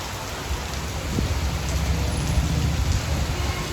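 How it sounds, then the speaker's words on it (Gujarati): Heavy rain pours down in a village, a dense, loud, unbroken hiss of drops striking surfaces with a faint low rumble beneath and no voices. "એકદમ ફૂલ વરસાદ ચાલુ થઈ ગયો છે"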